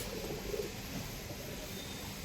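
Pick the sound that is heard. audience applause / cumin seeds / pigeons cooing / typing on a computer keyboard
pigeons cooing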